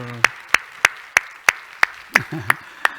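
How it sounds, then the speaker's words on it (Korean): A single person claps slowly and evenly about nine times as a church congregation is asked to applaud in encouragement, with a voice speaking briefly over the later claps. "박수로 격려 한번 합시다."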